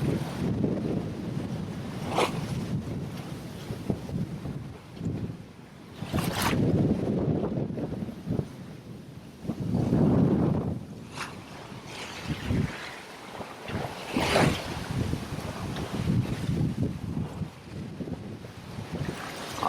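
A sailboat rides through rough Atlantic sea, with rushing waves, heavy wind buffeting the microphone and occasional splashes and knocks.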